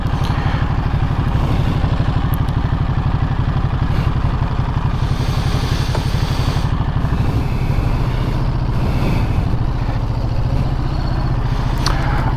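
A 2023 Ducati Monster motorcycle engine runs close by with a steady, throbbing idle rhythm and a slight rise in revs partway through, loud and continuous.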